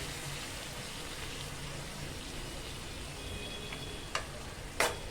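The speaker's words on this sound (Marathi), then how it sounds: "व्यवस्थित असं मिक्स करून घेऊया" Dry Bombay duck masala with kokum, salt and a little water is stirred in a pan, giving a soft, steady sizzle and scraping close by, with a couple of sharper clinks of the spoon toward the end.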